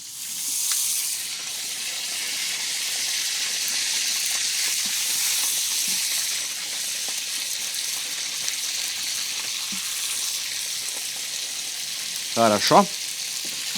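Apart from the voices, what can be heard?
chickpea kofte (kefteler) frying in hot oil in a kazan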